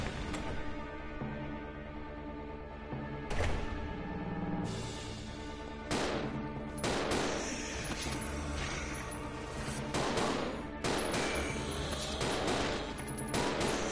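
Dense, loud gunfire in the survival horror video game Resident Evil Zero, with repeated shots and rapid bursts over a continuous game soundscape, with no talking.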